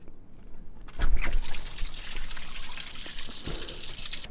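Coolant water suddenly gushes out of a popped car hose, on a Honda B18C engine, and keeps pouring and splashing steadily, with a rough, rushing hiss that continues to the end.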